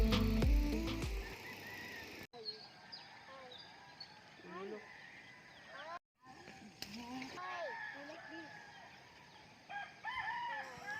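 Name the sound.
rooster crowing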